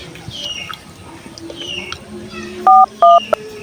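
Telephone keypad dialing tones: two clear, loud steady beeps followed by a short third blip, standing out over a faint, busy indoor background.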